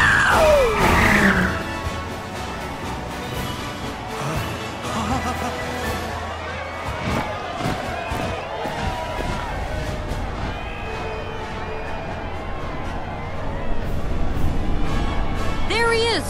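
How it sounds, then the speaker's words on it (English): A dense crowd cheers and screams at a parade for President Rufus Shinra in Midgar in the video game Final Fantasy VII Rebirth, a loud, continuous wall of babble with occasional crashes and shouts. "Can you even hear me over this crowd?"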